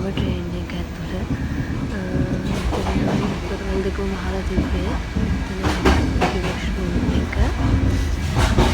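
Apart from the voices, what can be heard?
inside a moving train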